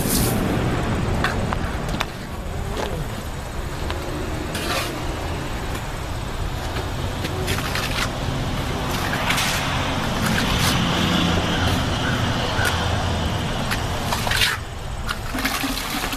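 Steady rushing spray of water wetting a concrete porch wall before a stucco coat is applied, continuous hiss with brief louder splashes and knocks, close and alone.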